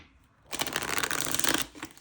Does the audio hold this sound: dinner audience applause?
no